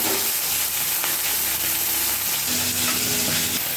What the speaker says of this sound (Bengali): কড়াইতে তেলটা দিয়ে দেবো।